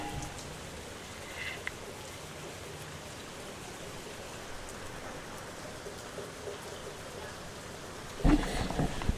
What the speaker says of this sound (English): I'm just gonna let the ambiance of the rain drift you away.